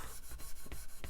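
Fine-grit sandpaper rubs across a guitar body during restoration, a few quick rasping strokes in a steady back-and-forth rhythm, close and fairly soft.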